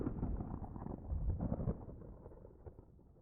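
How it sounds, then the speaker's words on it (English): Two layered thunderclap effects roll together as a faint, low rumbling crack that swells and slowly fades, with no voices. "I actually found 2 thunderclaps for this moment and couldn't decide what I liked best"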